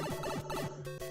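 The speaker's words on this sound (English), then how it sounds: "That noise you hear in the background is my opponent's dying as well" Dense, chaotic burst of retro game sound effects from Super Mario Bros. 35 as opponents are eliminated, a busy jumble of chiptune tones and blips layered over continuous game music, steady and loud throughout.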